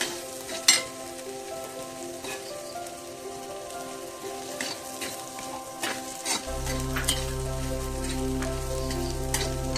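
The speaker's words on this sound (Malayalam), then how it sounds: "ഉള്ളിക്ക് ആവശ്യമുള്ള ഉപ്പ് ചേർത്ത് നന്നായിട്ട് മിക്സ് ചെയ്ത്" Onions sizzling with salt in a hot pan, a steady crackling fry with scattered sharp pops of stirring, moderately loud and close, a low hum joining late.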